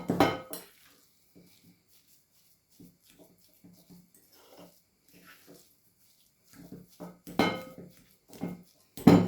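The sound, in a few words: mixing cottage cheese batter with starch in bowl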